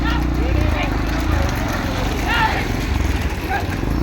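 Bulls run in a bullock cart race in Thoothukudi district, their hooves clip-clopping rhythmically under loud, continuous commentary and crowd noise at an outdoor racing event.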